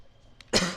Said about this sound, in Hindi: आज हमको खांसी आने लगी